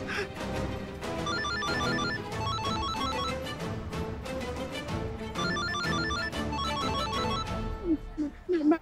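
A phone rings with a repeating electronic ringtone pattern, loud and close, looping steadily over a busy background during a tense scene in a Hindi TV drama.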